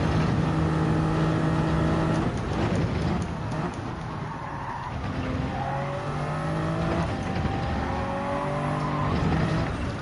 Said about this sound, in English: So that GTR, we can kind of see what it's doing down the straights now.